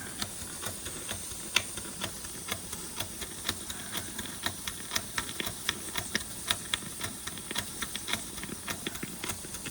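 A large mill steam engine runs on steam with a steady, even ticking beat over a constant hiss, moderately faint and with no talk.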